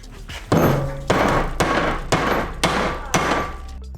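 A hammer strikes metal pipe tubing six times in a steady rhythm, each blow a loud close metallic clang that rings briefly before the next.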